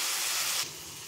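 Onions left in a pan after frying steaks give off a loud, steady, steam-like sizzling hiss up close. The hiss drops to a softer level partway through.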